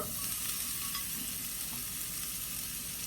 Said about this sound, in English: our sliced onions and red peppers into the bacon drippings so that they can saute